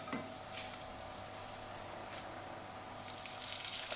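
Sausages browning in a pan for rougail saucisses, giving a faint steady sizzle with a few light stirring scrapes, close and with no talking.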